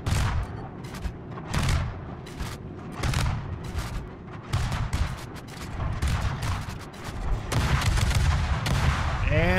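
Naval gun salvos in the World of Warships game: repeated heavy booming shots fire in irregular bursts, deep and punchy, overlapping with rumbling explosions and battle noise.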